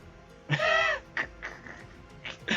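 A crow in a video game caws several times, one loud harsh call followed by shorter, fainter caws at uneven intervals, close by over a quiet background.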